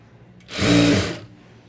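A sewing machine stitches the front part of a garment in one short, close burst of rapid mechanical whirring that starts and stops abruptly, with quiet before and after.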